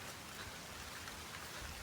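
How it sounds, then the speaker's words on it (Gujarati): Rain falls steadily at an outdoor spot, a faint continuous patter with no voices. "તો આપણો વરસાદ ચાલુ થઈ ગયો હોય અત્યારે"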